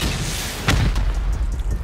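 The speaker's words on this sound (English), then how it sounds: "we're just gonna pop 4 rockets onto the side, open this thing up" Rockets explode against a stone wall while raiding in a survival video game after an arctic update, a heavy booming blast followed by rumbling debris and scattered smaller bursts.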